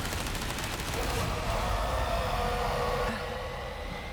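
Loud gunfire from Resident Evil 4 Separate Ways, a dense burst of shots with ringing echo and rumble that fades over a few seconds.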